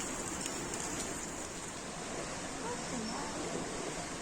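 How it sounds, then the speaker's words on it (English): Heavy rain pours down on a wet, miserable day, making a steady, even hiss of drops striking surfaces that carries on throughout at moderate volume. "This is how rainy it is"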